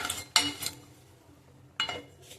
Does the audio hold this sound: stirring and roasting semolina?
yes